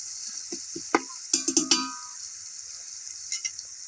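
Chicken stirred and fried in a pan over a wood fire: a steady high sizzle runs throughout, broken by several clanking scrapes of a spoon against the pan in a short cluster.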